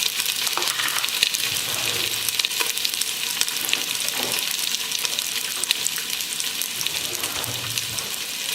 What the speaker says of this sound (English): saute, if you will, our sausage here just to get it seared